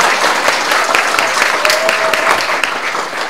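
Audience applause fills a lecture hall, a dense and steady wash of many hands with a faint whistle-like tone partway through. Nobody speaks over it.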